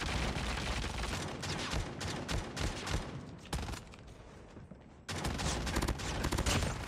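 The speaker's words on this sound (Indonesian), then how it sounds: "Kok ada suara mendengar suara pakai shotgun tuh dia" Shotgun and other gunfire in the mobile shooter game Call of Duty Mobile crackles in rapid, loud volleys, with a brief lull before another burst of shots.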